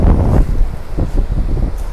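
Wind buffets the microphone at the coast in Hualien, Taiwan, with low rumbling gusts and the wash of ocean surf, loud and close throughout and with no voices.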